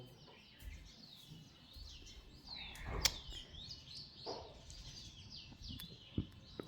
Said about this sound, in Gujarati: અટલામાં કોઈ અવાજ આવે છે ચકલાનો ચી ચી ચી ચી